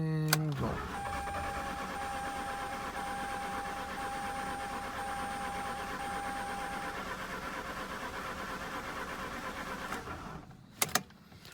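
Mazda RX-8 rotary engine cranking steadily for about ten seconds as it tries to start, a loud continuous starter drone that cuts off near the end, followed by a couple of sharp clicks.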